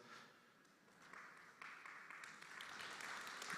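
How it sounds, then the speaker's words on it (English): An audience at a real estate forum panel gives applause, faint and distant, with a soft patter of clapping that builds gradually and grows louder toward the end. "Please give him a round of applause."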